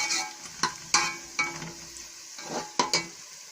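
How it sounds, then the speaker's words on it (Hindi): Sliced onions browning in a pan for a potato curry, with a steady soft sizzle broken by regular scraping stirs of a spoon about every half second. "अब प्याज को हम ब्राउन करेंगे।"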